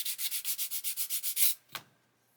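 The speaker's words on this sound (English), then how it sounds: "this is quite a fine sanding stick" A fine sanding stick rubs rhythmically across a 1/24 Airfix Spitfire Mk.IXc plastic model kit part, about a dozen quick even strokes followed by a single scrape, close and fairly quiet.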